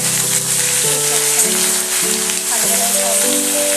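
Vegetables for shukto, including potato and bitter gourd, fry and are stirred in a pan, giving a steady, close sizzling hiss that runs the whole time under background music.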